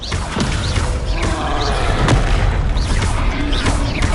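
Descendo spell cast in the Hogwarts Legacy video game: a dense run of heavy booms and thuds over a rumbling game soundscape, loud and close, with no one speaking over it.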